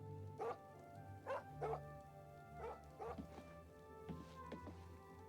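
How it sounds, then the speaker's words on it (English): Dogs bark in the town of Cheydinhal in the video game The Elder Scrolls IV: Oblivion, with several short, moderately loud woofs spaced irregularly over a steady low background hum and game ambience. "These dogs are so cute."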